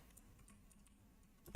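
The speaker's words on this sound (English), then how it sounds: "I'm just typing this way so I can use Vim to edit." Soft, quiet clicking of computer keyboard typing while editing C code in Vim, a few faint keystrokes scattered across a short stretch.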